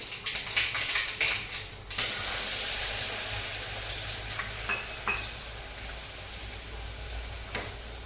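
Tempering of cumin, mustard seeds, garlic and coconut crackles and hisses in hot oil, with a few sharp clatters of utensils early on, then a steady sizzle with occasional pops.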